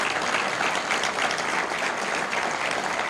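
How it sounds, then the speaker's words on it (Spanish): Church congregation applauding the Lord during a Spanish-language sermon, a steady, dense wash of clapping hands that fills the room evenly from start to finish with no voices above it. "Denle un aplauso al Señor."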